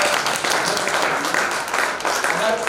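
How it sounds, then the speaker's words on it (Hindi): Applause from an audience at a Hindi poetry gathering, a dense wash of clapping that swells and dips for a few seconds, with some voices mixed in. "जोरदार तालियां"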